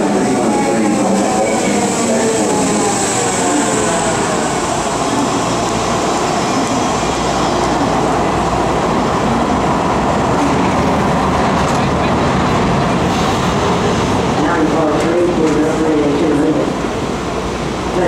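A BART Fremont-bound train pulls into Embarcadero underground station, a steady loud rumble and squeal of rail cars filling the space, with platform announcements and crowd voices over it throughout.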